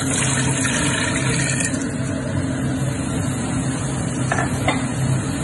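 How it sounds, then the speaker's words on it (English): Onion, turkey meat and garlic frying together in a pan for risotto, giving a steady, even sizzle that runs throughout with a low background rumble and a few faint utensil clinks. "I have mixed onion, turkey meat, and garlic. While this mixture is going to be fried"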